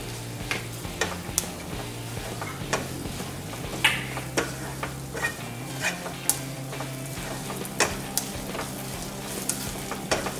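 Coriander and red chili powder sizzle in hot ghee with a steady frying hiss, punctuated by repeated sharp ticks of a spoon against the pan, close up and with no talking.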